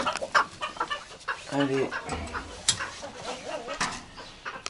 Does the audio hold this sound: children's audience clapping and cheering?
no